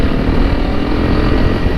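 A Honda CRF300L Rally motorcycle with a loud Moto X exhaust drones at steady speed, a constant close and heavy engine roar with no break or talk.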